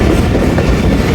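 Train rumble and clickety-clack of wheels over rail joints as a Fareed Express train departs in a train simulator game, a steady, close, continuous rolling noise with no talk.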